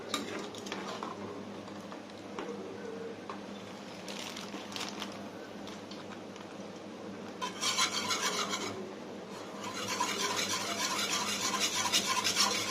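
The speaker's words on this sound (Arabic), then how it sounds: "هبقى اقلب بقى في المكرونه واقلب في الايه في اللحمه واقلب ايه في الكريمه" Macaroni, ground meat and cream being stirred in three pots at once for baked macaroni béchamel, a steady scraping and rubbing of spoons against the pot bottoms that grows louder and busier toward the end.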